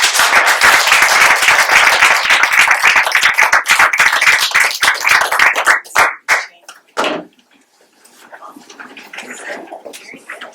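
Applause at a school board meeting after a list of names is read: dense, loud clapping that thins into scattered claps and stops after about seven seconds, followed by quieter voices.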